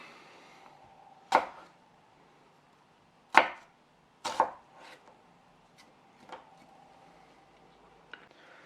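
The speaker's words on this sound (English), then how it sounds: "with these little halves, we're just going to go ahead and get them into thin slices" A knife slicing red onion halves into thin slices on a board: a few sharp, separate chops spaced a second or two apart, close and clear against near silence.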